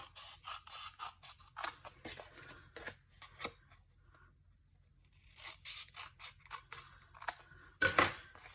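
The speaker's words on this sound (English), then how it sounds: "So just cutting a little wedge off of there to make it a little easier to assemble our box." Scissors trimming a small wedge off a paper gift box flap: a string of close, crisp snips and scratchy cuts in irregular bursts, a quiet pause in the middle, then a final louder snip.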